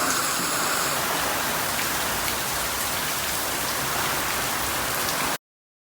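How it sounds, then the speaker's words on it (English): Steady rain pouring in Ubud, Bali, a dense even hiss of drops on surfaces, loud and close, continuing unbroken for several seconds before cutting off abruptly. "there was a little bit of rain for a little bit"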